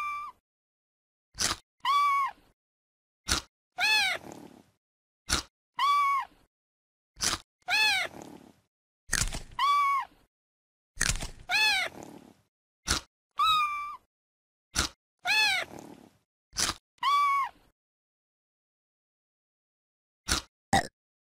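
Kitten meows from the CBeebies My Pet and Me kids' video game sound in a string of short, bright, separate cries spread over about twenty seconds, with quiet gaps and clicks between them.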